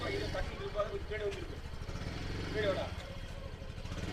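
A Yamaha Fascino scooter runs with a steady mid-pitched engine drone, close and continuous, while people talk over it.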